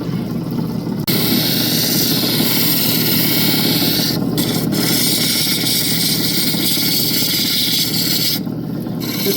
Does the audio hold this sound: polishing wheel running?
yes